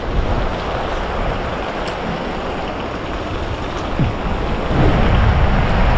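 Heavy rain on a calamansi farm roars in a dense, constant downpour, loud and close, with wind-like rushing that swells slightly near the end.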